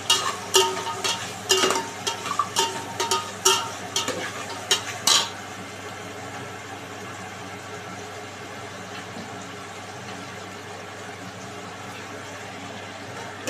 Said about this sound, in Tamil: இது கொஞ்ச நேரம் கிண்டி விட்டா பாரு